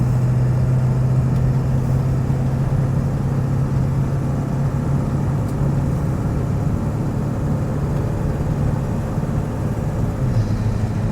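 Steady diesel drone of a 2002 Ford Excursion Limited with a 7.3L Powerstroke engine, heard from inside as it pulls along, a strong low hum holding level with slight shifts in pitch and no talk.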